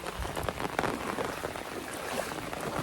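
Soft, steady rain patters without a break over a flooded village in the Konkan region, faint and even, with a scattered hiss of drops.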